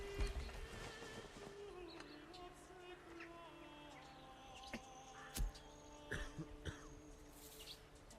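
A person coughs sharply a couple of times, close to the microphone, over the quiet game sounds of a medieval village in Manor Lords, with horse hooves clopping and birds calling faintly.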